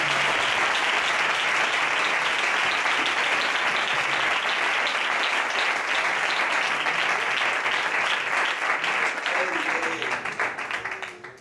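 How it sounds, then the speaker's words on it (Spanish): Sustained applause from a church congregation fills the room at full strength, a dense wash of clapping that holds steady before tapering off near the end, with a faint voice surfacing briefly under it. "Dale ese aplauso que tenías reservado para él."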